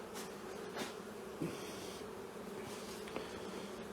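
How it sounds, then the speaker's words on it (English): Honey bees fill a chimney with a steady, low, continuous buzz, a swarm hum with occasional single bees droning past more closely. "We've got a few bees that are flying around the light"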